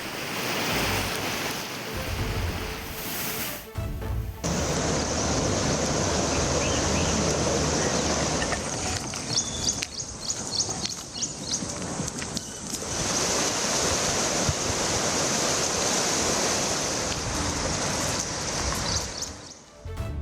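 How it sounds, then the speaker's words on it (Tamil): Heavily flooded Manimuthar waterfall in Nellai district roars as a dense, continuous rush of water, loud and close throughout, with only brief dips and gusty wind on the microphone. "நெல்லை மாவட்டம் மணிமுத்தாறு அருவியில் வழக்கத்தை விட கடும் வெள்ளப்பெருக்கு ஏற்பட்டுள்ளது."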